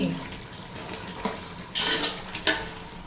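Chicken pulao being stirred in a pot after coriander powder and garam masala go in, with soft scraping and sizzling that swells into a few louder stirring strokes near the end, with no voices.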